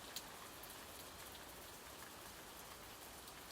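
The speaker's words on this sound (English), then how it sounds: "As the soothing rain continues to fall" Soothing rain falling steadily, a soft, even hiss of drops that stays constant and gentle throughout, with no voices.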